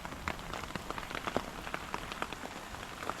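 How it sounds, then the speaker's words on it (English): Hail falls during a hike, a dense steady patter of small hard impacts ticking on surfaces all around, close and continuous, with no voices. "It's hailing."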